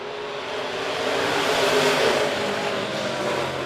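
USRA B Modified race cars at Monett Motor Speedway roar off together at the start of a heat race, a dense steady engine drone that swells gradually and holds, heard from a distance with no voices.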